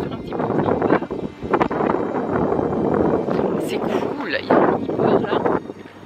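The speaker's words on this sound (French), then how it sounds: "il y a du vent, obviously" Gusty wind rumbles and buffets the microphone steadily, with a few sharper gusts, outdoors near open water in Greece.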